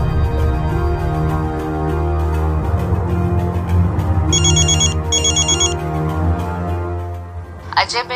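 A telephone rings with two short electronic ringtone bursts midway through, heard over a loud, steady music bed.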